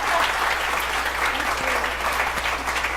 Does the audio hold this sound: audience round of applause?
yes